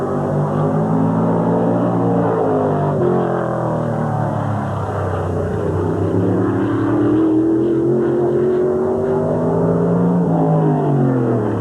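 A race car at Sandusky Speedway in 1986 drives a qualifying lap, its engine droning loud and steady with rising and falling pitch as it circles the track, continuous for the whole stretch.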